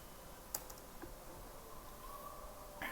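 Computer keyboard keys are pressed during a coding session, a few faint, sparse clicks with one sharper tap near the start and another at the end, against a quiet background.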